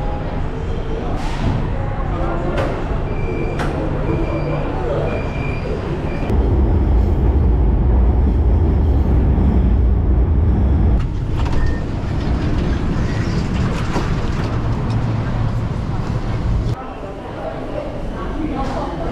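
Steady low rumble of a moving train in Shanghai with rail clatter and occasional clicks, continuous throughout, and faint voices in the carriage.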